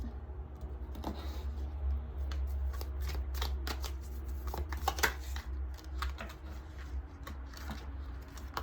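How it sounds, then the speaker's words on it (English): Tarot cards drawn and handled from a deck, soft riffling and snapping card sounds in quick irregular flicks, close and fairly quiet over a low steady hum, with no voices. "So I'm going to get a card from the other side of the deck."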